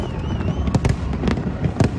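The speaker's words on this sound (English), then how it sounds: "oh my gosh, the fireworks were so beautiful" New Year fireworks in Kuala Lumpur pop and crackle in a dense run of sharp bursts over a constant outdoor rumble, some reports louder and closer, others fainter.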